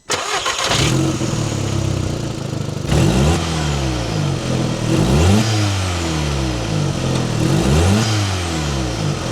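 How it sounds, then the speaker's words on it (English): An Audi TT with its stock airbox starts up and is revved repeatedly. It gives a loud, close engine note with several rising and falling revs over a steady idle. "So let's start this car first, and so you can hear how it sounds with the stock airbox."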